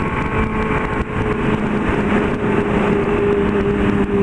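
A Honda Hornet motorcycle idles with a new short test exhaust, giving a steady, loud, rumbling engine drone close by throughout, with no talking.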